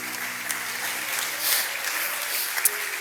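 Congregation applauding at a Spanish-language church sermon on spiritual warfare; steady, dense clapping fills the space throughout, with a few sharper claps near the end and faint tonal hum underneath.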